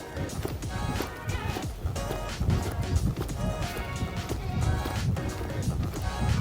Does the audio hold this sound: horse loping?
yes